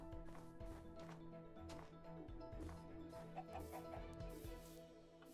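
Chickens in the video game Minecraft give soft, repeated clucks in a quiet, steady rhythm, heard faintly with no talk.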